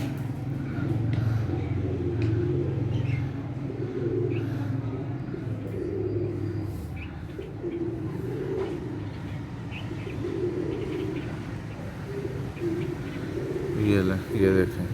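Pigeon chicks and pigeons cooing and chirping close by in soft, repeating phrases over a steady low hum.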